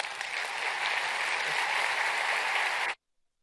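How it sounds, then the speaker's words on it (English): An audience at the APEC Peru 2016 conference applauds after a speech, with dense, sustained clapping filling the hall for about three seconds before stopping abruptly. "Ladies and gentlemen, please, another round of applause for Mr. Mark Zuckerberg, the founder and CEO"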